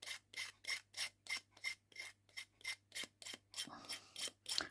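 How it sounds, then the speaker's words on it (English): An emery board sands the edges of a decoupaged slate coaster in a steady run of about a dozen short, dry rasping strokes, close and fairly quiet, with no talk. "I'm just going to sand the edges, and for this I'm going to use an emery board"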